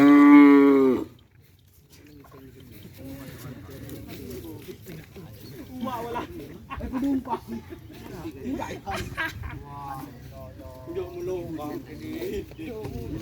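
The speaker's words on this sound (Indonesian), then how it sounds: "Ini sapi yang baru guys." A Madurese racing bull from Sapudi island, part of a kerapan sapi team, lets out one loud, close moo at the start, followed by people talking over a murmuring outdoor crowd.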